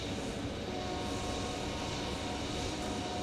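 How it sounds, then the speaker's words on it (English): An old McDonnell Douglas MD-80 airliner at Phoenix Sky Harbor Airport, a steady broadband engine roar holding at a constant level, moderately distant, with no talk over it. "An old MD-80"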